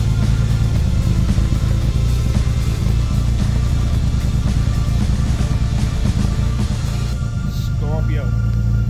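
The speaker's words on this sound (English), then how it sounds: "Exhaust sounds good though." Loud, steady low rumble of a motorcycle with an aftermarket Scorpio exhaust idling nearby, continuous throughout with a faint higher whine near the end.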